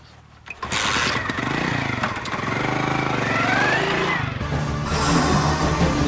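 A motorcycle engine catches after a brief quiet moment and revs into a steady, loud outdoor drone with rising pitch as it pulls away, swelling again near the end.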